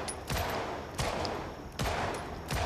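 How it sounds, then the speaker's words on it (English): Single-fire MP5 shots from the video game Project Zomboid: four sharp, evenly spaced reports with short decays in between and no talking. "I do prefer the single target firing."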